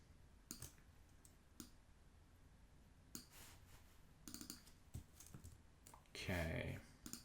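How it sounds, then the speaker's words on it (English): Key taps on a computer keyboard during design work: sparse, quiet, separate clicks spread across the stretch, with a brief louder burst near the end. "I'm going to tap O on my keyboard."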